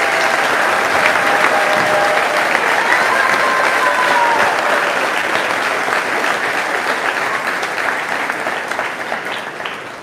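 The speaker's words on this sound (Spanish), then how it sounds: "un fuerte aplauso a este sacerdote" A church crowd gives a priest a loud, sustained round of applause. It holds dense and even for the whole stretch and thins a little toward the end, with no voices standing out.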